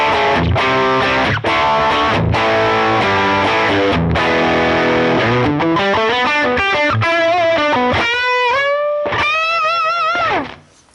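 An electric guitar played through a Helix Ventoux vintage-style amp model with the drive turned all the way up gives loud, saturated distorted chords, then ringing sustained notes that bend and waver before fading out at the end.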